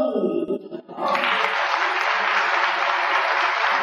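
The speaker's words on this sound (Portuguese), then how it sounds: "E eu gostaria que vocês aplaudissem o meu amigo" Audience applause for a singer at a televised music show in Santa Bárbara, a steady broad clapping crowd rising after a brief voice and holding loud to the end.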